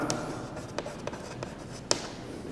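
Chalk or marker strokes on a classroom board during a physics lesson, a few short scratchy taps spaced irregularly over a couple of seconds, close and fairly clear with no talking.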